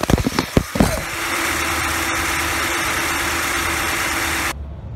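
A Ford F-150 EcoBoost engine idles steadily under the open hood, a close, even mechanical hum after a few brief knocks and clicks at the start, continuing unbroken until it cuts off abruptly near the end.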